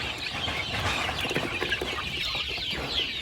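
A flock of nearly 200 domestic village chickens cluck continuously while being fed grass, a dense, busy chorus of overlapping calls close by.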